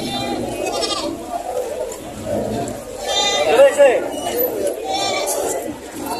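Boer goats bleating at a crowded livestock market, a few calls rising amid busy chatter, clinking and people talking nearby.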